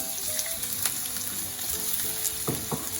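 Ginger frying in hot oil in a pan over high heat for Taiwanese three cup chicken: a steady, close sizzle with a bright crackling hiss and a few clinks of stirring near the end.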